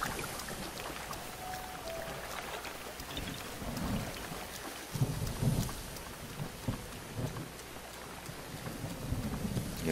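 Thunder rumbling during a rainstorm in Zelda: Breath of the Wild, at a lightning shrine trial, with heavy steady rain and deep rolling thunder bursts swelling midway, fairly loud and without speech.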